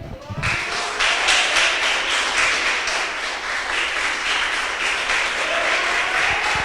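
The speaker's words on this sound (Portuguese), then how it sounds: "E as palmas se elevam ao Senhor." A church congregation claps in praise to God, the hands falling into a steady, regular rhythm over a broad wash of crowd noise that starts abruptly and stays loud and constant.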